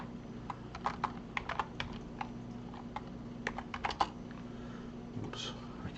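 Typing on a computer keyboard during a Linux password prompt, a run of close, crisp key clicks in uneven bursts over a steady low hum.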